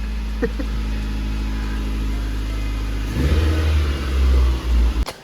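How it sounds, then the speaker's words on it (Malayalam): A car engine after a battery replacement rumbles at a steady idle, then revs up loudly several times in close succession near the microphone. "കാറൊന്ന് സ്റ്റാർട്ട് ചെയ്ത് നോക്കാൻ പോകണം കേട്ടോ ബാറ്ററി മാറി"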